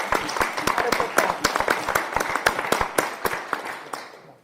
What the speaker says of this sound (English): Round of applause for the staff.